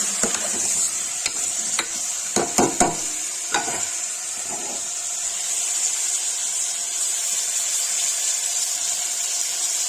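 Turnip pieces with turmeric and spices fry in a pan, a steady high sizzle running throughout, broken by several sharp scraping clicks from a spoon stirring in the first half.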